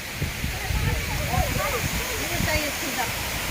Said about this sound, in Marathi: अगदी खळाखळ पाण्याचा आवाज येतोय